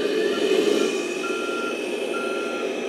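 A Kabolite K3362 4x4 RC dump truck reversing, emitting steady electronic reversing beeps in a regular repeating pattern over a constant motor whine, close and clear with no talk.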